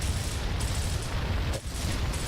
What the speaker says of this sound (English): Where the gunfire is, behind you.